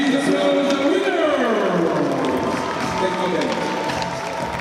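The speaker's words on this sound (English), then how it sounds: "Please applaud the winner!" An arena crowd at an ice hockey world championship game between Belarus and Norway applauds and cheers in a dense, sustained wash, while an announcer's amplified voice and other voices carry over it.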